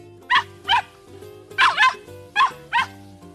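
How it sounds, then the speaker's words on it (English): A dog barks six times in quick pairs, sharp high yelps close by over a faint musical background. "Floppy barked and barked"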